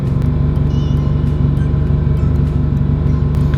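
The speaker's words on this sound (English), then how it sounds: "Compressor's gonna kick on." An air suspension compressor on a bagged Subaru STI kicks on, powered by an Odyssey PC680 battery, giving a loud, steady low hum with a constant drone that holds throughout and never lets up.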